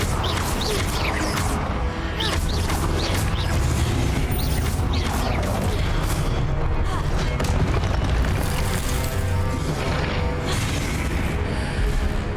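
Confringo fire spell explosions in Hogwarts Legacy, booming and crashing within a dense, constantly loud barrage of combat effects, with voices mixed in.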